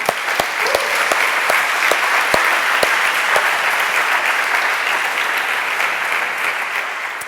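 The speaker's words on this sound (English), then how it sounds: "So a big round of applause to them." Sustained audience applause at a developer conference, dense steady clapping from a large crowd with a few sharper claps standing out, loud and continuous throughout.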